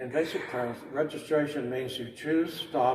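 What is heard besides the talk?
None of the usual background noises is heard.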